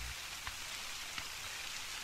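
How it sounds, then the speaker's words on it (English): Steady rain falls in The Hunter: Call of the Wild, a constant broadband patter on surfaces with a couple of faint drop impacts, heard alone with no talk. "it's raining again, like usual"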